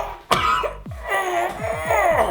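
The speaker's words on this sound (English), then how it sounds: "In mine you see me in pain coughing up blood." A man coughs harshly in pain during a sword stab scene, a sharp burst followed by a rapid string of rough, strained coughs and throaty gasps, close and loud with no talk.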